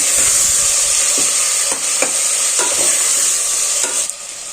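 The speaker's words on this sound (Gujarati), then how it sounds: "હવે આપણે સમારેલી પાંદડી ટમેટા અને રીંગણા બધા એડ કરી દઈશું સાતડી લેશું" Chopped pandadi beans, tomatoes and eggplant sizzle and fry steadily in a pan with garlic, a loud continuous hiss broken by a few stirring scrapes, easing slightly at the end.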